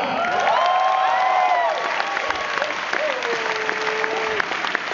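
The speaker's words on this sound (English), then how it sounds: "Have you just clapped at that?" An audience claps continuously, a dense, full round of applause with some cheering and scattered voices mixed in, loud and sustained throughout.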